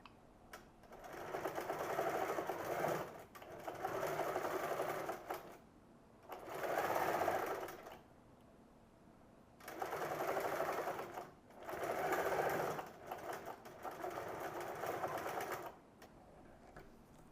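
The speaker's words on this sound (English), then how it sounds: "So I'm going to go ahead and stitch down and move the stuffing out of the way and then stitch down." A sewing machine stitches down a jacket pocket piece over quilted stuffing, running in six close bursts of rapid whirring a second or two long, separated by short quiet pauses.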